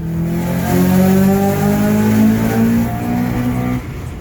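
A Honda Accord CL9 engine revs close to its roughly 8,000 RPM redline, a loud, sustained rising howl with steady harmonics held for about four seconds before easing off, with no talking over it.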